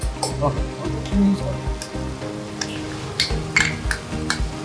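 Cashew paste sautéed into a nargis kofta gravy gives a steady close sizzle, broken by scraping stirs and light clinks of a spoon against the pan.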